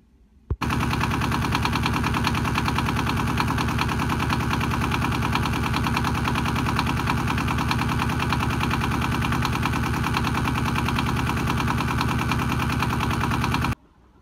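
The inboard engine of a 1988 Pearson 33 sailboat runs steadily during winterizing, a loud, even, rapidly knocking diesel-like chug that starts abruptly and cuts off cleanly after about thirteen seconds, heard close with no talking.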